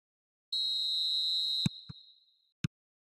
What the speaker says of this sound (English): There's the whistle then to start the second half.